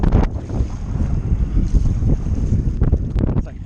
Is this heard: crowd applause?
no